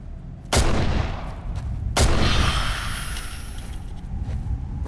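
Two heavy gunshot blasts ring out about a second and a half apart during a video game, each followed by a long booming decay and rumble, loud and close with no talking.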